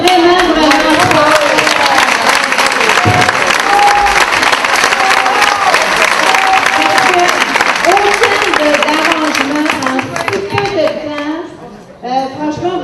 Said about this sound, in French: j'aimerais ça qu'on l'applaudisse vraiment fort